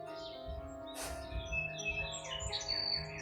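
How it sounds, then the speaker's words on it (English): Birds chirp and sing on a farm in springtime, a mix of light tweets and warbling phrases over a soft steady background, with no talking. "You hear the birds singing?"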